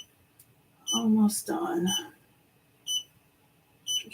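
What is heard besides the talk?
embroidery machine beeping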